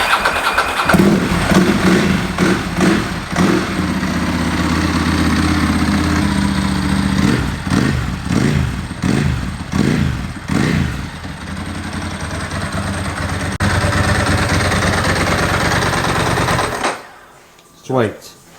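Ducati 996 motorcycle engine starting up, with loud irregular revs and blips before settling into a steady rumbling idle, then cutting off near the end; voices speak over it at times.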